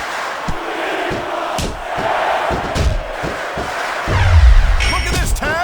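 Capacity arena crowd in the wrestling video game WWE SVR 2006 roars and cheers during a Triple Threat match, punctuated by heavy slams and thuds, with commentators talking over the din and a surge of noise near the end.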